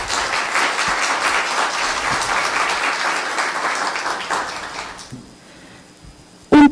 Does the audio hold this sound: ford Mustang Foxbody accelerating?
no